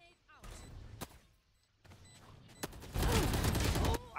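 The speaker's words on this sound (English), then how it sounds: "Placing swarm grenade." Swarm grenade detonating in the tactical shooter Valorant, a cluster of sharp bursts and booms with a dense, loud stretch near the end, mixed with other game effects and a voice talking.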